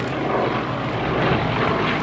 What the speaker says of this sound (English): CJ6 is capable of aerobatic flight